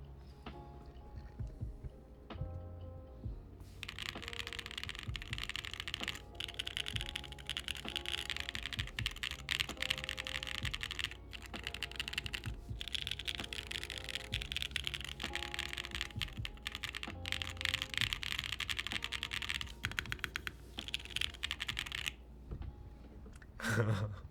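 Rapid clacking keystrokes on a mechanical keyboard, a steady stream of typing with brief pauses, close and clear.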